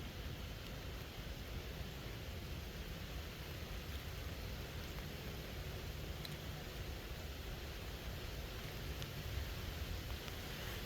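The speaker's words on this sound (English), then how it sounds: "rain's starting to come down" Rain beginning to fall outdoors during a trout fishing trip, a steady, dense hiss that holds evenly throughout with no voices.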